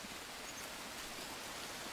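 Steady rain falls in the Green Hell survival game, a dense, even hiss across the whole stretch with no distinct drops or pauses, heard alone without talk.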